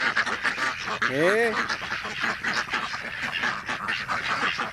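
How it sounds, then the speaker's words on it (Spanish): Hungry park ducks quack in a lively cluster close by, one loud call rising above the flock while someone speaks to them briefly. "¿Qué pasó, mis patos? Ahora sí traen hambre, ¿verdad, canijos?"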